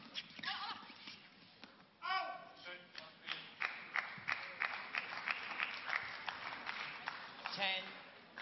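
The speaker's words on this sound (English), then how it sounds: "Crowd here very much trying to encourage their players." At the 2009 Denmark Open badminton tournament, the crowd claps rhythmically in quick repeated beats, a fairly distant, moderately loud chant-like clapping with a few shouts, while a commentator talks over it.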